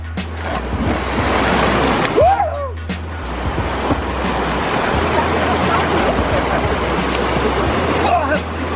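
Rushing water roars steadily at the Cachoeira do Quilombo waterfall in Canastra, Minas Gerais, a broad, continuous wash of noise close by, with wind buffeting the microphone and voices talking over it.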